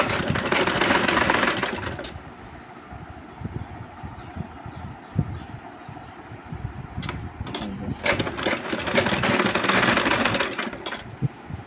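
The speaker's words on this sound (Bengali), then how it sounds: "5 ইঞ্চির দাগে সেলাইটা দিবেন আগে।" A sewing machine stitches a hijab ribbon in two steady, buzzing runs at the start and end, with quieter pauses and light handling clicks between them.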